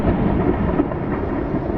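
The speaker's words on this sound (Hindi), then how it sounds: "एक पल में ही बादलों के बीच से एक मोटी खौफनाक काली बिजली कड़की" A heavy crack of thunder from lightning striking during a dark night storm, a loud dense rumble that fills the brief moment without pause.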